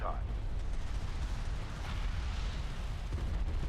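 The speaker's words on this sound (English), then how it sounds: "All the strike fighters are going to come out and bombard the carrier." Strike fighters bombarding a carrier in a video game set off continuous rumbling explosions, a dense low-heavy roar with bursts layered throughout, loud and close.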